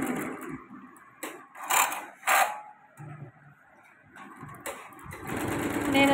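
An SGK sewing machine runs in short bursts, a close whirring stitch sound that starts and stops several times with quiet gaps between runs.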